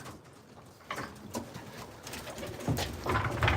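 Racing pigeons coo at the loft in a soft, continuous burble of several birds close by, with low throaty rolls growing fuller toward the end and no talking.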